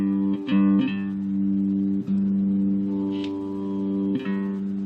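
Restored Dixon bass guitar played through a small Roland Microcube amp with the treble up, holding a steady low sustained tone with a few plucked attacks and slight buzzing overtones.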